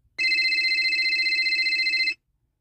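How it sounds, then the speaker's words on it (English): An electronic telephone ringtone trills steadily for about two seconds, a loud pulsing warble close by that then stops, with no talk over it. "I don't wanna answer that phone."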